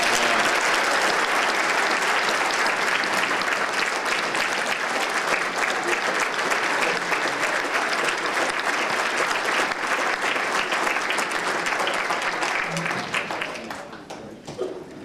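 An audience at a Hoosier Legionnaire gathering in Indiana claps in sustained, loud applause for about fourteen seconds before it thins out and fades.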